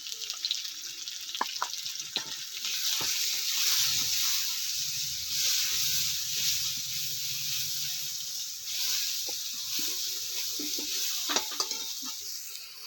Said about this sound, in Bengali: আলুটা দেওয়ার পর আমি কিছুক্ষণ এটা কষিয়ে নেব একটু নুন দিয়ে দিয়েছি আর দিয়ে দিচ্ছি হলুদ গুঁড়ো